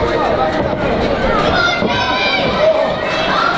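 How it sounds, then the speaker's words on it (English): Wrestling fans fill an arena with a continuous crowd roar and chatter that swells slightly through the moment, with footsteps and movement mixed into the steady din. "The fans are cheering for Tony Atlas."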